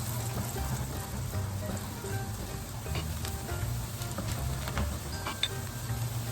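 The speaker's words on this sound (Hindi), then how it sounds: "तो इसमें हम ये चॉप किया हुआ 1 मीडियम साइज़ का प्याज डाल देंगे।" Chopped medium-sized onion frying in a pan gives a steady, loud sizzle with faint stirring scrapes, continuous throughout and with no voices.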